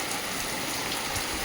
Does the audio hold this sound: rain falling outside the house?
yes